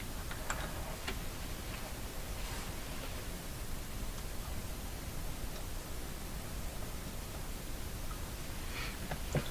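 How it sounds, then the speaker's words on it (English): An old RCA Victor Model 911KG tube radio with a capacitor fault gives off faint, constant scratchy static, a low hiss scattered with small ticks and crackles. "Radio's making some scratchy sounds."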